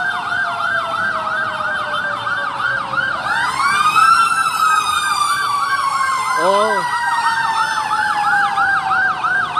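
Several fire truck sirens wail at once at a big fire on Visayas Avenue, Barangay Culiat, Quezon City, loud and close with overlapping rising and falling sweeps, plus a brief yelp burst and a short spoken exclamation.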